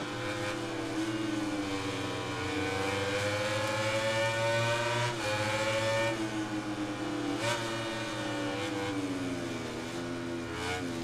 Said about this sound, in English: I can hear Dovi now winding it up